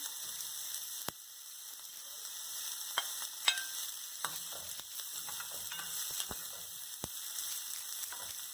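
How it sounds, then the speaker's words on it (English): Peppers with onion and garlic sauté over a low flame for a vegetarian rasta pasta, giving a faint, even hiss with occasional soft ticks and light utensil taps. "And we're doing this on the low flame. And we just saute these for a while."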